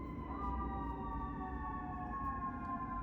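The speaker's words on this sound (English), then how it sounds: "Excuse the sirens. Oh, New York." Emergency sirens wail steadily in the distance over a low New York City rumble, their tones holding and overlapping without a break.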